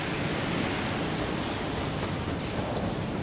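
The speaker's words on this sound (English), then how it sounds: "Wiping off the rain from my helmet." Steady rain pours down in the Star Citizen game on the planet MicroTech, a dense, even hiss of drops that stays loud and unbroken throughout with no one talking.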